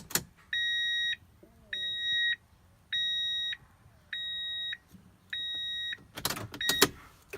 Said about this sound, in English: Turn that off so that beeping noise don't get so annoying.